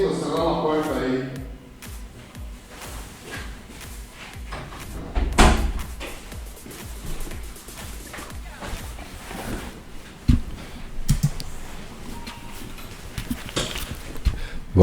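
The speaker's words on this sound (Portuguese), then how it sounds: "cerrar uma porta aí." A door being shut in a room, a single solid thud partway through, amid people talking and other faint knocks.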